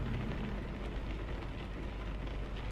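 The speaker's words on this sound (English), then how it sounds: "Oh, there's the rain. Started just after we finished unloading there." Steady rain in the truck-driving game American Truck Simulator, heard with the engine off: a dense, even patter on the truck close around, constant and fairly soft across the whole stretch, with a low rumble underneath and no talk.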